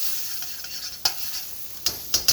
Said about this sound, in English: my butter's melted, my chives are cooking, and I also have my garlic that's cooking as well